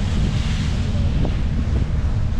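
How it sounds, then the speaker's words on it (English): Wind and surf on an island shoreline on Lake Erie, heard as a steady, loud, continuous rush with wind buffeting the microphone and no speech. "the waves is really picking up the wind."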